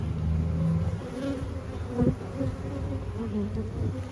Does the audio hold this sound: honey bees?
yes